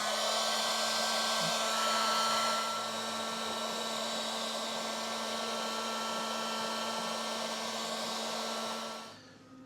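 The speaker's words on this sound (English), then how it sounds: "Then we're gonna heat it with the heat gun just to kind of make it malleable." A heat gun warms plastic during small jon boat repairs, giving a steady, loud, close blowing whir that holds for several seconds and then cuts off at the end.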